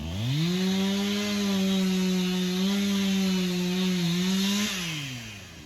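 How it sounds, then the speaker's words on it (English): A loud chainsaw runs steadily at high revs close by, cutting wood, its pitch holding then dropping slightly near the end as the blade sticks. "I think they got the chainsaw blade stuck."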